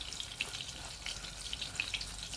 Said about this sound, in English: Hear it sizzling away.